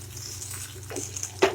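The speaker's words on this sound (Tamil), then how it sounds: "நல்லா வதங்கிட்டு இருக்குது வதங்கட்டும் இப்போ இஞ்சி வதங்கிட்டு" Ginger and tamarind sauté in a pan for a ginger chutney, giving a soft steady sizzle with light scraping and a sharper clink of a utensil near the end.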